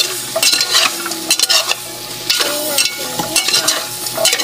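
A spoon stirs chayote in coconut milk in a pan, scraping and clattering in irregular strokes over a steady sizzling simmer, close and fairly loud with no voices.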